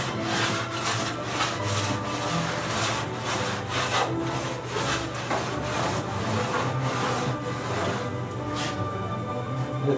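A hand plane shaves a wooden top for a curved blockfront dressing table, giving a steady series of rhythmic rasping strokes, close and fairly loud, repeating about once per second.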